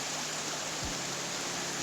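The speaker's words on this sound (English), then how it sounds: "Good waterfall." A waterfall in ancient woodland on the Somerset coast gives a steady, broad rush of falling water, constant and moderately loud, with no voices.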